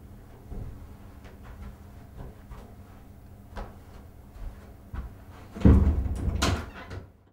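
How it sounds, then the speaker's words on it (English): An office door swings shut with a single loud, close thud near the end, after a stretch of quiet room tone. "You can close your door on the way out."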